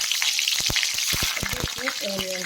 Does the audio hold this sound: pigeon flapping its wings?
no